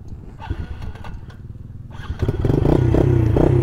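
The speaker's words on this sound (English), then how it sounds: "I don't think I've ever ridden a pit bike." A fresh 2013 Yamaha TTR-110 pit bike engine idles with a steady putter, then revs up louder and holds a higher buzzing drone, close and with no talk.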